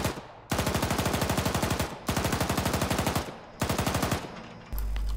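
Bursts of automatic machine gun fire from a bunker in Arma 3, three long rapid strings of loud shots separated by short pauses, close and harsh.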